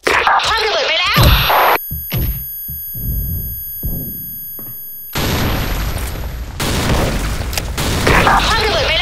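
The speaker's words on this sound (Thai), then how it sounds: "คว้างระเบิดไปแล้ว" Grenade blasts in a shooting video game, several loud booming bursts with sharp onsets and decaying rumbles, alternating with gunfire and electronic beeps while a voice speaks over the action.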